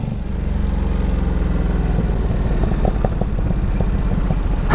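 A Ducati Supersport 950 motorcycle idles low at close range, its engine chugging steadily while a few sharp exhaust pops break through as it settles on the overrun near 2,000 rpm.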